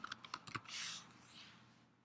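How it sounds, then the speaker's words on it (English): A few quick, faint keystrokes on a computer keyboard as a web address is typed into a pfSense blacklist, followed by a soft, brief rush of noise. "I'm going to type in download.com."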